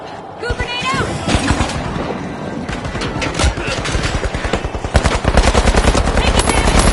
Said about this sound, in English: Turret deployed.